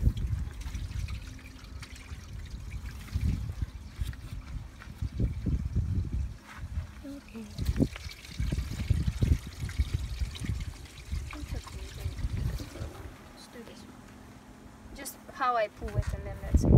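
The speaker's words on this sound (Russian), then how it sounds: "тогда откроется клапан, и все утечет." Water trickles and gurgles steadily as it drains from an RV waste tank valve, with a voice talking over it and a few bubbling bursts near the end.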